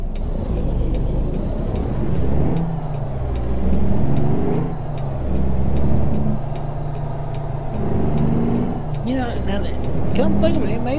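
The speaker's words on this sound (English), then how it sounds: "this one here is a CAT engine, and it really don't sound bad" A loud diesel truck engine in American Truck Simulator rumbles and revs in repeated surges, with high whining tones and hissing bursts over the drone.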